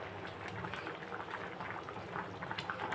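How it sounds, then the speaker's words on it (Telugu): A pot of fish curry simmers and bubbles steadily on the stove, a dense crackling boil with no voices over it. "కొంచెం మరగనిద్దాము."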